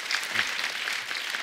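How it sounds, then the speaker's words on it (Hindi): Studio audience on a television comedy show giving applause: a steady, dense wash of many hands clapping at moderate volume, with no talk over it. "एक बार जोरदार तालियां हो जाएं अनु मैम के लिए"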